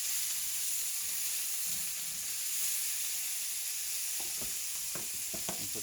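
Sausage rounds for a sausage and shrimp gumbo frying in a pan, a continuous bright sizzle and hiss close by, with a few soft clacks of stirring near the end.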